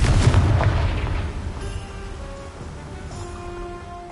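A Confringo blasting spell bursts in Hogwarts Legacy, a loud, deep, booming explosion at the start that rolls off into a fading rumble, with softer game ambience and tones after.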